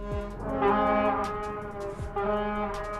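A Canadian port's horn blows in two long, loud, deep tonal blasts with a brief gap between them, rich and resonant like a foghorn.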